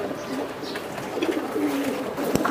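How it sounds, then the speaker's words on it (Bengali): Racing pigeons coo softly in a few low, rounded calls over a busy outdoor background, with faint murmuring voices in the distance. "হ্যাঁ সবগুলা কবুতর উঠতেছে, এই যে বাইরে"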